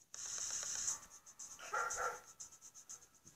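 A dog gives a few short barks and yips with whimpers and panting, close but fairly quiet.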